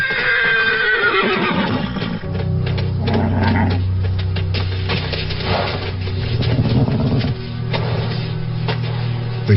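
A desert horse in Africa gives a loud, close whinny at the start, then deep, rumbling snorts and throaty calls carry on over a constant background, with no talking.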